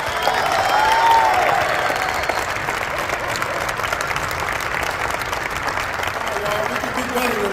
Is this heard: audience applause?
yes